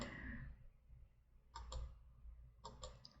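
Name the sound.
computer mouse clicking while creating a Sim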